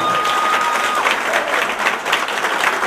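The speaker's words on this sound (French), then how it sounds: "Bah Jésus, un applaudissement." A congregation at a church ordination service breaks into applause, with a full room of hands clapping loudly and steadily, faint voices mixed in.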